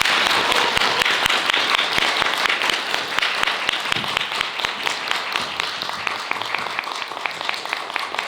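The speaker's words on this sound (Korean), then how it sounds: "큰 박수로 자리에 모시겠습니다" A lecture audience at a Seoul National University forum claps loudly and steadily, giving a dense, sustained round of applause that carries on without a break from start to finish.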